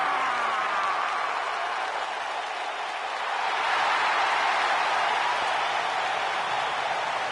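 A wrestling arena crowd applauds the tag team champions in a broad, steady wash of clapping and cheering, distant and sustained throughout.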